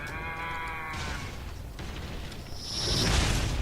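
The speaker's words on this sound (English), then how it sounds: "What the hell is that, and why is it mooing?" A Metal Gear machine in Metal Gear Rising: Revengeance lets out a low, harmonic, moo-like bellow for about a second, followed by broad whooshing and rumbling game effects that swell toward the end.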